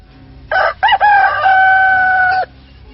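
A rooster crows as a sound effect in an audio drama: a loud, close cock-a-doodle-doo with two short opening notes, then one long held call lasting about two seconds, heard alone over a faint background hum.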